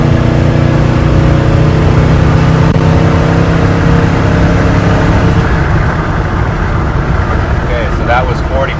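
A 1972 Chevrolet C20 pickup pulls hard under moderate throttle, its engine note droning loud and close before dropping as it downshifts, with voices talking over the steady engine roar.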